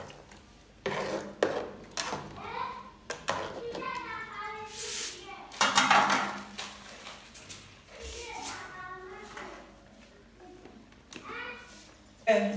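Ground egusi soup stirred in a pot with a utensil, blended with ground crayfish. Irregular close scrapes and knocks against the pot come through under a speaking voice.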